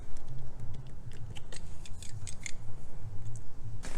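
A blade snips and clicks through an interior trim strip in a Ford Fiesta ST, giving a series of short, crisp cutting ticks at close range with no talking.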